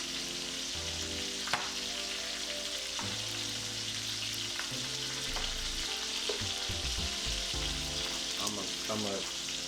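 Chicken skin pieces frying in a pan, a steady, close crackling sizzle throughout with occasional utensil knocks and clinks of cookware, no speech.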